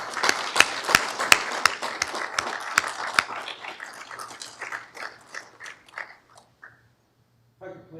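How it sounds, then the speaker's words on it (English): Guests at a military promotion and commissioning ceremony applaud. Sharp, close claps from a modest group start briskly and gradually thin and fade, then a voice begins speaking just after the clapping stops. "I would like to give a round of applause to everybody who has been supporting"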